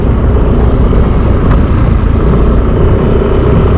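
A scooter ridden along a rough village road produces a continuous close rumble of engine and wind buffeting, loud and unbroken throughout.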